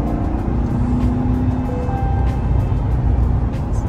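A 2021 Chevrolet Corvette C8 engine running with a low, rough exhaust rumble, steady and close, with no voices.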